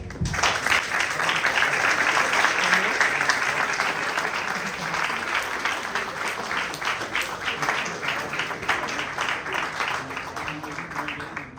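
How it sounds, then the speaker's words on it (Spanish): A large conference audience claps loudly and continuously, building quickly then tapering gradually into scattered claps toward the end. "Un aplauso, por favor."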